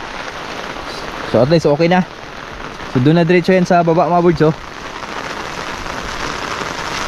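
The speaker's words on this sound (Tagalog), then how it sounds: "Grabe lakas talaga ng ulan, oy." Heavy rain pours steadily on a flooded bitter gourd farm, a constant hiss running throughout while someone talks over it in two stretches.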